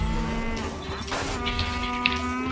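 A cartoon cow in the soccer game Mario Strikers lets out a long, sustained moo over busy game sound effects and background music, with no voices.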